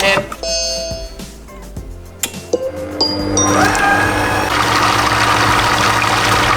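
Monsieur Cuisine Smart food processor blending pancake batter with cheese, a low steady motor whir and churning that starts after a couple of seconds of small clinks and knocks and then runs continuously and fairly loud.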